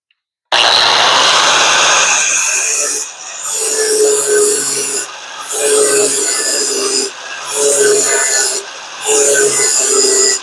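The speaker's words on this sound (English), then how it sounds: "Time to clean this up with a flap disc" Flap disc grinding a weld on a rusted truck body, a loud continuous abrasive rasp that drops briefly in several short pauses between passes.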